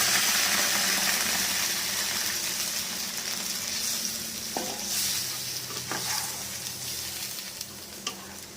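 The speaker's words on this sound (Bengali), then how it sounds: "এবার আলুটা যে সেদ্ধ করেছিলাম যে জলটায় নুন হলুদ দিয়ে, সেই জলটা দিয়ে দিচ্ছি পুরো।" Salted, turmeric-tinted water from boiling potatoes is poured into spices sizzling in a pan for a simple fish curry. A steady close sizzle and stirring run throughout, with a few brief clinks and splashes and no talk.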